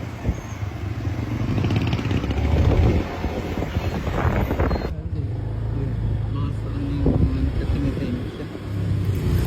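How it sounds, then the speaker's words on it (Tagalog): A motorcycle engine rumbles steadily during a ride, with heavy wind buffeting the microphone throughout. "kailangan kong magpahatid ng motor sa bahay ng kaibigan ko"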